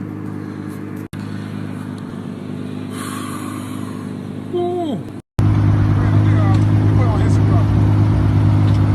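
A big-turbo 250bhp Volkswagen Mk4 Golf passes with a rising engine note, loud and near, after a steady engine drone; a voice whoops briefly as it goes by.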